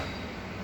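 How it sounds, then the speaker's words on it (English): Airport shuttle train at Singapore Changi running toward Terminal 1, a steady loud rumble of wheels and motor from inside the car, with no voices. "We're catching the train down to Terminal 1."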